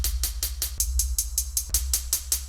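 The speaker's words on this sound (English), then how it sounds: "And the hats sound like this." FL Studio hi-hat loop treated with Fruity Blood overdrive and reverb: fourteen bright, crisp hat ticks in an even rapid rhythm over a steady low bass hum, with no voices.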